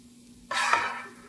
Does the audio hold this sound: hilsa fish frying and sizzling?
yes